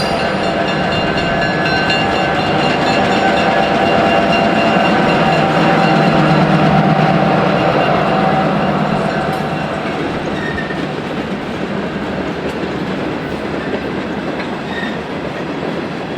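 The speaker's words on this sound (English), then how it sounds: "here comes another steel train" An Indiana Harbor Belt steel train hauling a long string of empty coil cars from the Union Pacific rolls steadily past at close range. Wheels clatter rhythmically over rail joints under a continuous heavy rumble that swells and fades slightly over sixteen seconds.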